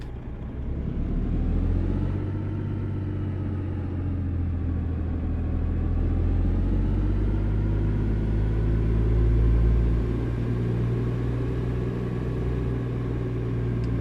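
Heavy truck engine in American Truck Simulator hauling a trailer out of a building, a steady low diesel rumble with a slight rise in revs midway, continuous and close, no voices.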